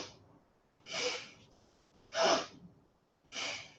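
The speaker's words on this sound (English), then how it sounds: "exhale here" Three strong breaths during a Kundalini yoga breathing exercise, each a forceful exhale lasting about half a second and evenly spaced, close and clear over near silence.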